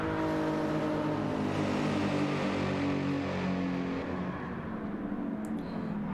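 Race cars in Gran Turismo 7, an AMG and a Porsche among them, with engines roaring steadily at high revs as they pass close together, the pitch gently shifting across the stretch.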